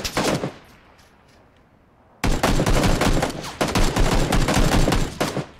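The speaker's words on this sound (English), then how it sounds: "That recoil on that gun is insane" A silenced gun in PUBG fires rapidly, first a short burst, then after a pause two long runs of closely spaced suppressed shots, loud and close.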